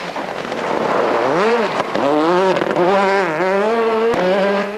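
Rally car on a Galway International Rally stage swinging through a handbrake turn, its engine loud and close, pitch swooping down then climbing through several revs with sharp gear-change breaks and no talk.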